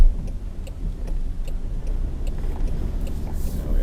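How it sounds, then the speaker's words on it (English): A Land Rover Defender 90 rolls through a small puddle, with steady engine and road noise, light ticking and a soft splash of water building toward the end. "We go through a little puddle here."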